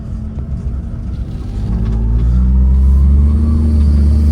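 The Daihatsu Naked, a two-wheel-drive turbo kei car fitted with a Hummer body kit, accelerates. Its engine drone rises in pitch and loudness over a few seconds into a steady, fairly close hum, with no talk over it.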